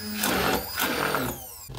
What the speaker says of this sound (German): Ihr solltet das so lange pürieren, bis ihr eine schöne cremige Konsistenz habt.